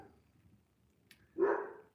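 A single dog bark near the end, brief and fairly close, after a quiet stretch with low background rumble.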